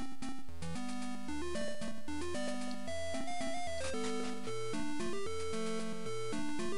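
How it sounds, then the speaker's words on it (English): Chiptune game music carries the Song of Storms melody from a Legend of Zelda game: bouncy, bright square-wave notes over a repeating low bass pattern, loud and continuous with no talking. "This is the Song of Storms from Oracle of Time."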